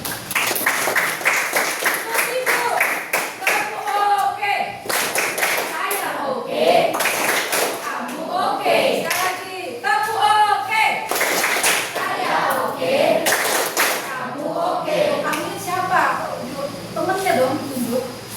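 A junior high school class claps hands together in repeated bursts of quick, close clapping, with children and a teacher talking in between the rounds.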